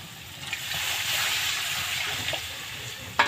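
Water poured into fried spice masala in a pan for koi fish curry, a steady close rushing hiss with a few small splashes and a sharp clink at the end.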